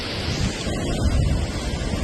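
A loud, steady roar of a rushing river at Chooralmala, Kerala, fills the whole clip, dense and continuous with no pauses.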